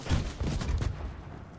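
Gunfire in a Fortnite solos match, a close burst of repeated shots and thuds that fades into a quieter game-sound rumble.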